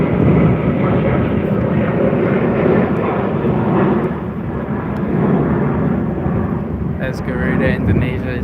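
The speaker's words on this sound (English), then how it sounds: "Here's a Qantas 737 with split scimitar winglets" A Qantas Boeing 737 with split scimitar winglets roars past at an airport, a loud, broad jet rumble that swells and holds throughout, with a faint voice briefly near the end.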